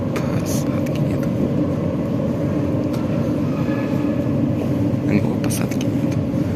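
Metro train at a station on a ride between Kalvariyskaya Sloboda and Jubilee Square stations: a steady low rumbling roar of the carriage throughout, with faint clanks and a voice talking over it.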